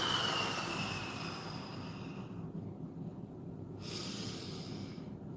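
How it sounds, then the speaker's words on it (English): Deep, slow breathing during a guided breathing exercise, with a long loud inhale or exhale at the start followed by steady airy breaths at close range and no talking. "just focus on the breathing"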